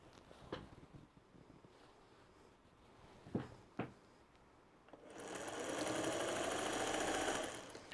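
A sewing machine stitches quilt sashing onto a row of Turnabout Granny Squares blocks, running in a steady, close whir for the last few seconds after a few soft handling clicks and thumps.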